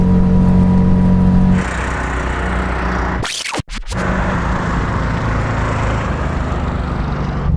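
A three-wheeler car's engine drones steadily and loudly through a drag race run, with a brief dropout and surge midway as it shifts gear.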